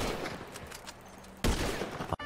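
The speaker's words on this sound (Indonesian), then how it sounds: "Tadi aku mendengar suara tembakan" Rapid bursts of gunfire in a video game crackle in quick succession, with a sharp loud volley partway through and a brief cutoff near the end.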